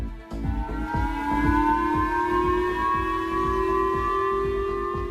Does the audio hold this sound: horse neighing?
no